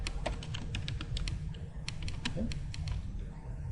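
Fingers type an SQL query on a computer keyboard in quick, irregular bursts of sharp key clicks, close up and fairly quiet, with a brief pause midway.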